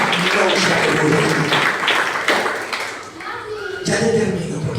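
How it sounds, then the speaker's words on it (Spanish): Congregation clapping hands together during a nighttime church service, a dense continuous patter of many hands mixed with voices and a speaker talking over it, loud and close throughout. "Dele palmas al Rey en esta preciosa y linda noche."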